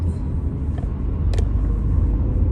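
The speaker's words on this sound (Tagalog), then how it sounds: "Traffic kayo I-55" Heavy rush-hour traffic on the I-55 rumbles steadily from close range, a dense low drone of cars and engines with a brief higher clatter midway and no voices.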